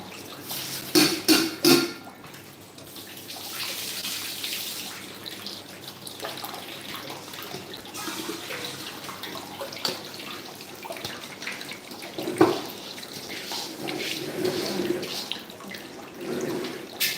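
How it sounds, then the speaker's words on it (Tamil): Water runs from a tap while a wet grinder for idli and dosa batter is repaired at home, a steady splashing flow heard under brief bursts of noise and a cough. "தண்ணி"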